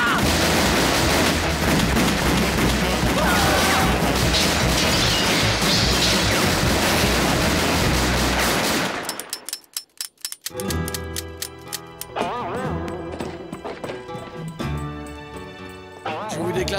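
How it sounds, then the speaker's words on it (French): Loud gunfire in the animated Western Lucky Luke as characters shoot into a crowd: a dense, continuous volley first, then a sharp cutoff followed by scattered individual shots amid music and effects. "Dans le tas, on tire dans le tas."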